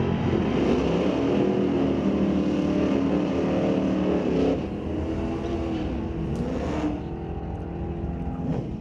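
A Mustang and a 1979 Chevy Monza H-body car launch in a drag race at Mission Raceway Park, loud roaring engines rising in pitch through the gears, then fading as the cars run off down the strip.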